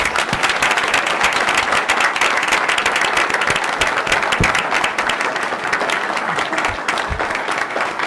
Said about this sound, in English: Stand up one more time to get an applause from everyone.